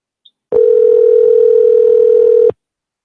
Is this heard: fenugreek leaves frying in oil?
no